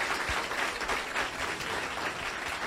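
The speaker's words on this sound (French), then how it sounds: "Je vous demande de les applaudir chaleureusement" Audience at a Caribbean-themed Christmas dance competition applauds the three professional dancers, a steady wash of clapping that fills the whole stretch at moderate distance with no voices over it.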